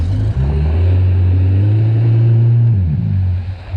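Old Yamaha GP WaveRunner personal watercraft engine idling steadily as it warms up, a loud close low rumble with a brief dip near the start and a slight rise and fall in pitch toward the end.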